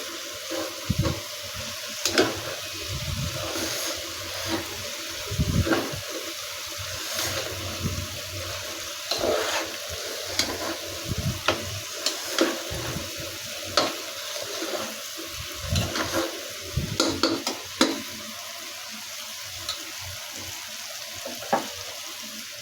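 Beef and raw jackfruit cook in a pan, sizzling steadily while a utensil stirs and scrapes at irregular intervals, close by, with occasional louder knocks against the pan and no speech.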